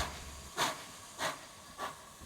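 Steam locomotive 141 R 1126 on the Paris-Toulouse line gives three evenly spaced, sharp hissing exhaust chuffs over a low background rumble, fairly distant and without talk.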